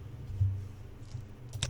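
A few quick, quiet keypresses on a computer keyboard while entering a number, soft clicks close by in an otherwise calm room.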